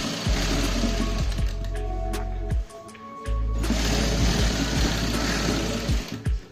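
A sewing machine stitches a shirt seam in rapid mechanical bursts, its needle chattering and whirring in short runs with brief pauses between them, close and clear with no talking.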